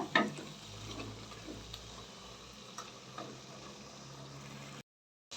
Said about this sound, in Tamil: மசாலாலாம் வந்து கொஞ்சம் நல்லா எண்ணெயிலேயே வதங்கட்டும்